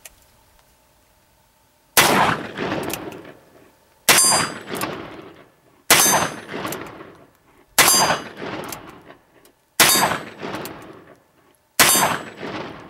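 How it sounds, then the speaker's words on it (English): .44 Magnum rounds, 180-grain Hornady XTP loads over 10 grains of Unique, fired at a metal plate target: six loud, evenly spaced shots about two seconds apart, each with a sharp metallic clang that rings and decays. "I have a metal plate down there, so that's what I'm going to be shooting at for these loads."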